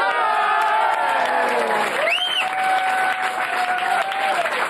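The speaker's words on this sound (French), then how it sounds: "Si tu entends des applaudissements, c'est normal" Studio audience applause with some cheering and whoops during a live radio prank call on Europe 1, a broad, steady roar of clapping, with a tonal whistle-like sweep rising briefly in the middle.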